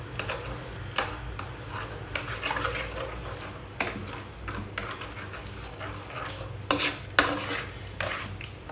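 A spatula stirs tomato beer garlic butter shrimp in a pan, with repeated close clinks, scrapes and rubs against the metal over a low sizzle, in an irregular rhythm.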